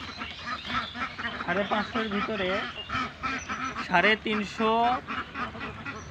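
Ducks quack and honk in a dense, nearby chorus on a duck farm while someone talks over the birds.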